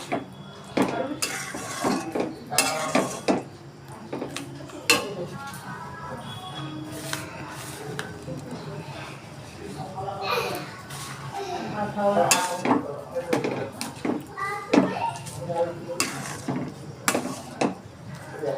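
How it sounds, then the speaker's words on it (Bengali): A utensil scrapes and clinks against a pan while spices are stirred into a sweet apple-jujube pickle, giving irregular metallic knocks and rattles, with occasional speech in between. "এর মধ্যে মশলাটা দিয়ে আমি এরকম নাড়াচাড়া করে দেবো"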